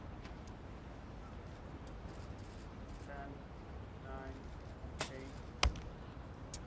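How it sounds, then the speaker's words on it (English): Compound bow arrow shot during a women's bronze medal archery match at an outdoor venue, shooting across water. A crisp release snap comes, then a sharp impact, over low crowd and ambient noise, with commentary running underneath. "Crucial first arrow from Jamie van Natta"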